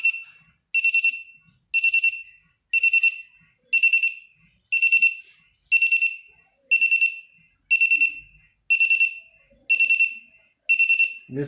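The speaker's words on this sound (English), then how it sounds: "And you can see another alarm also triggering with a different sound." A Senko SP2nd sulphur dioxide gas detector alarm sounds eleven sharp, high-pitched beeps, roughly one per second in a steady rhythm, loud and close with nothing else heard.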